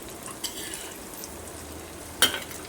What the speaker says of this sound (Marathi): भाजत आलेला आहे मासा कटलेट छान भाजते